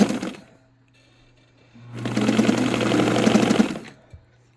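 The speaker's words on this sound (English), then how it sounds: "and then I'm just going to start sewing" A sewing machine darns a hole in fabric, its motor whirring into a fast, steady burst of stitching for about two seconds before stopping, close and clear over a low electrical hum.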